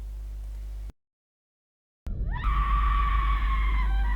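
A woman screams in a horror film scene about a home invasion, a loud sustained shriek bursting in after a stretch of silence and continuing under a heavy low rumble to the end.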